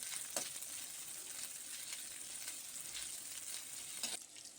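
Boiled chicken frying in hot oil with ginger and garlic, a steady loud sizzle and crackle throughout with occasional stirring scrapes, no voices.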